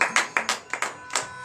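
Several sharp hand claps sound close by in an uneven rhythm during a morning prayer acclamation to Jesus, about eight distinct strikes in a second and a half.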